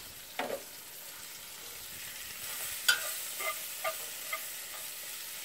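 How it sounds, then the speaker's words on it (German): Duck legs, carrots, soup greens, onions and garlic sweating in a Dutch oven: a faint, quiet sizzle broken by a few sparse spoon scrapes and clicks against the pot, no one speaking. "So, mal ganz kurz anschwitzen"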